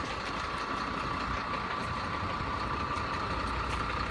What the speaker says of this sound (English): Here comes the lorry now